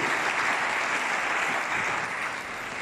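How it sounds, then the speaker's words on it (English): A church congregation claps together in a steady, dense round of applause filling the room, fading slightly toward the end. "Let's clap for him"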